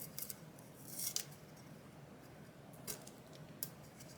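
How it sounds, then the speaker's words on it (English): Painter's tape is peeled from a 20oz skinny sublimation tumbler in a quiet room, giving a few faint, brief crackling rips and soft ticks spaced apart over low background hiss. "we're going to go ahead and start to peel all of the tape off"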